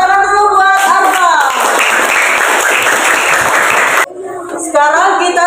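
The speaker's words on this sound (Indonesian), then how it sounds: "tepuk tangan dulu buat Arfa" A small group, likely a classroom of children and a teacher, breaks into brisk, close applause for a child named Arfa, with voices audible before and after the clapping.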